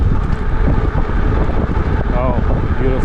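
Strong wind buffets the microphone outdoors during an uphill e-bike ride on a road near the Jordan border, a loud continuous rumble with a person speaking briefly over it.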